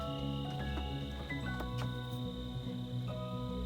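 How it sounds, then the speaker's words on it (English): Crickets sing steadily across an evening homestead among sunflowers and thick green growth, a dense continuous chirring chorus with no voices, joined by a few faint bird calls. "The crickets are really singing."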